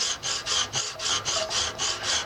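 Pocket knife blade drawn across a Smith's coarse sharpener, giving a steady rasping scrape repeated in about nine even back-and-forth strokes, close and clear with no talking.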